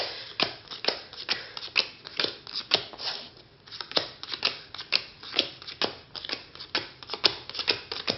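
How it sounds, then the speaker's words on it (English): Playing cards dealt by hand into five piles, a rapid series of crisp close snaps and slides as each card lands, steady and rhythmic throughout. "what I'm going to do is make 5 piles of cards"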